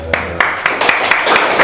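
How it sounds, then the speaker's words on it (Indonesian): Brief burst of hand clapping from a small group in an indoor podcast studio, close and loud, with sharp irregular claps under a lingering speaking voice. "Yang itu tepuk tangannya."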